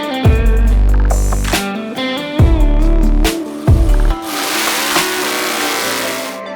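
A Dodge Drag Pak Challenger drag car engine starts and runs loud and close, with repeated sharp throttle blips and revs followed by a rough, hissing idle.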